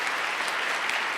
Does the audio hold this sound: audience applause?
yes